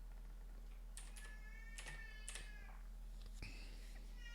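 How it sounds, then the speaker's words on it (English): A nine-month-old baby girl cries in short, high, cat-like wails, several brief plaintive cries spread across the moment, faint and indoors, with light keyboard typing and a low steady hum beneath. "My baby's crying. Sounds like a cat."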